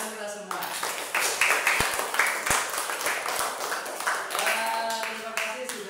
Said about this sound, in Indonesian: terima kasih, tepuk tangan kita semua